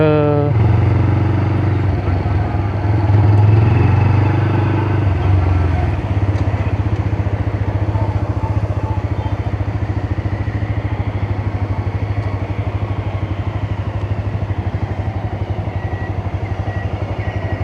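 Motorcycle engines idle and rumble nearby in a busy parking area, a steady low drone with people talking over it.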